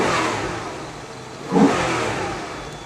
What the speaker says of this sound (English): That air intake just sounds beautiful.